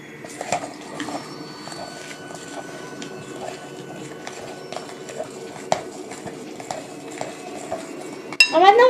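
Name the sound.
mixing chocolate cake batter in a bowl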